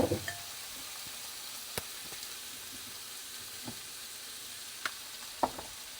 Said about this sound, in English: we're going to toss it in the pan first since the tofu takes a little bit longer to cook